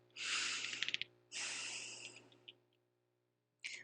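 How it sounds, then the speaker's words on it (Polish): A deep breath during a calming tapping exercise, a long airy inhale with a few quick catches, a brief pause, then a second long exhale, close and soft, followed by silence and the start of another breath. "I głęboki oddech."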